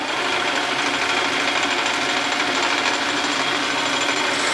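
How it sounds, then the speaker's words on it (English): A metal lathe turning mill scale off a steel drive wheel, a continuous close whirring and hissing cut that holds steady throughout with no talking. "I'm turning what'll be facing the inside of the wheel, just turning the mill scale off it"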